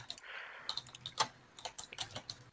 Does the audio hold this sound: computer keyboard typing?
yes